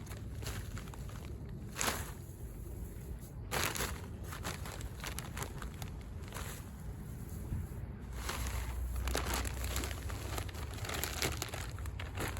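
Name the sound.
spreading mulch over planted garlic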